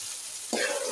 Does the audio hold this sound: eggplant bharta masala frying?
yes